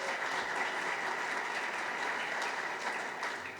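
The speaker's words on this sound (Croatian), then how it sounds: "Molim lijepo da ga pozdravite toplim pljeskom" Warm applause from a conference audience welcoming the host of a panel on boosting the economy of Bosnia and Herzegovina, a dense, steady wash of clapping that holds evenly throughout and tapers slightly near the end.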